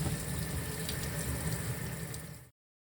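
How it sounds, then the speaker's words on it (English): Tap water runs steadily over tie-dyed boots being rinsed, a close, continuous splashing hiss that stops abruptly after about two and a half seconds. "I'm just going to keep rinsing here"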